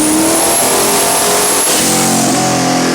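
A Dodge 5.2/5.9 Magnum V8 engine in a car revs loudly and steadily with a high whine, its pitch shifting partway through, with no voices over it.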